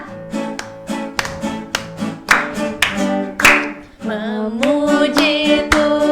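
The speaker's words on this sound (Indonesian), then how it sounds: "Yuk kita tepuk tangan ya" Children clap hands in a steady rhythm along with an upbeat worship song with music, the claps sharp and regular over the accompaniment.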